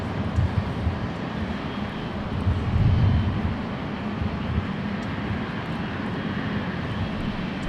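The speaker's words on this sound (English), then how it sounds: "Lufthansa 452 Super, our next arrival on the north side." Lufthansa 452, a jet airliner arriving on the north runway at LAX, gives a low, fairly quiet engine rumble at a distance that swells briefly midway and then settles to a steady drone, with no voices.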